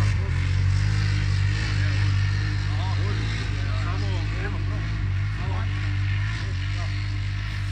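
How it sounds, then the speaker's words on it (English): A Polaris ATV engine runs with a steady low, even rumble that stays close and constant throughout, while a person talks over it. "Tu pa že dela motor."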